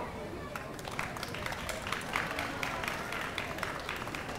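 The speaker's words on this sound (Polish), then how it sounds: "Gorące brawa" Warm applause from the audience at a gala concert, steady dense clapping that holds evenly throughout.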